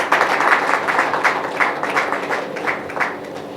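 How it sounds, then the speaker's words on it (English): An audience applauds, a dense patter of many hands clapping at moderate loudness that gradually thins and softens over a few seconds, with no clear speech. "A round of applause for AMPA,"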